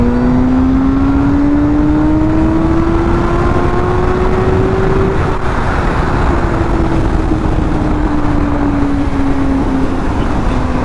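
A Honda CBR motorcycle engine revs steadily higher while accelerating on a cold road, a loud continuous whine climbing in pitch then easing, mixed with heavy wind rush.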